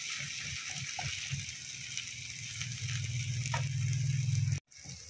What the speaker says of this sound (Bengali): তাহলে ওর সাইডে পেঁয়াজটা ভাজা হচ্ছে আর এর সাইডে রসুনটা ভাজা হচ্ছে